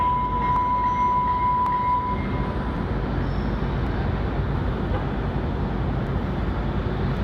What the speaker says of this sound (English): The West Coast train's coming in.